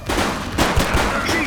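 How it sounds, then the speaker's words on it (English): A brief loud burst of rapid gunfire in the police game The Precinct, with dense overlapping shots and a rumbling low end over a second and a half. "Shots fired!"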